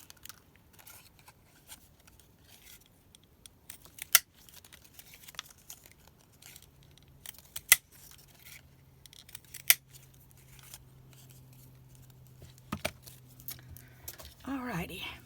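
Scissors snip out paper pieces for an upcycled nautical gift bag, giving sparse, crisp close cuts with occasional sharper snips and light paper rustle, while a voice talks faintly underneath.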